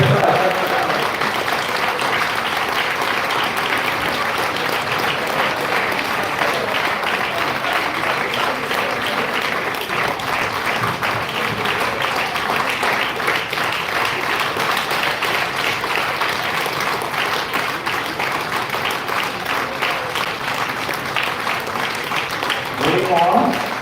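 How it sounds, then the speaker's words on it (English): An audience at a university management event applauds, a sustained, dense clapping from many hands that continues for over twenty seconds at an even level, with voices briefly audible within. "give a huge round of applause to Dr. Prafulla Kumar Padi"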